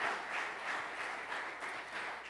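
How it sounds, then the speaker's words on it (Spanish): Congregation applauding during a Spanish-language Sunday church service, a soft, steady patter of many hands that sounds distant and fairly faint throughout. "¿Quiere darle un buen aplauso a Dios,"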